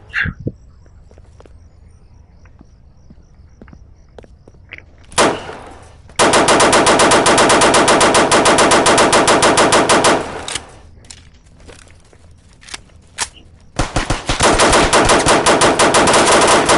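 Automatic gunfire in a video game, rapid sustained bursts from about 6 to 10 seconds and again from 14 seconds on, loud and close, with a few single shots between.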